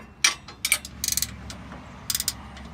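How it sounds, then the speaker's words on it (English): A wrench tightens 15 millimeter nuts on a Kleinn air horn mount on a 2017–2018 Ford Super Duty F250, giving several short metallic ratcheting clicks in quick clusters, close and fairly quiet. "for the 15 millimeter for the back, tighten these nuts"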